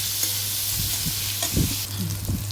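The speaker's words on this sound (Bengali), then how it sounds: "পেঁয়াজ আর ক্যাপসিকামটা খুব ভাজবো না, হালকা একটু নাড়াচাড়া করে এগুলোকে আমি তুলে রেখে দেবো" Onions and capsicum stir-fried briefly in a hot pan, a steady sizzle with a low hum underneath and several soft scraping stirs toward the middle and end.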